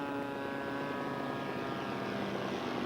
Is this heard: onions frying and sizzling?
no